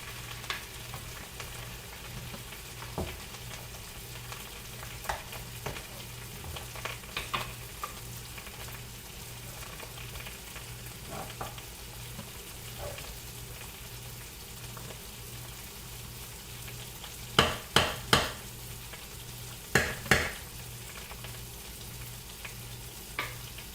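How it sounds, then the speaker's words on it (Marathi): Onion cooks in melting butter in a pan for a chicken dish, making a soft, continuous frying hiss. A low hum runs underneath, and several sharp clatters stand out near the end. No one speaks. "बटर वितळेपर्यंत इथे आपला कांदाही शिजतोय"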